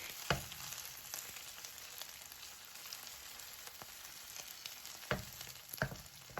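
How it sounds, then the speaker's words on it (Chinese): Oil sizzles and crackles steadily in a hot pan as stuffed bitter melon pan-fries over medium-low heat, with a few sharp pops and clicks now and then, close and moderately loud. "开中小火慢慢的煎，一锅煎不完。"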